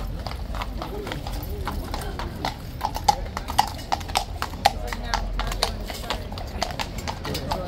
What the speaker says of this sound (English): skittish horse.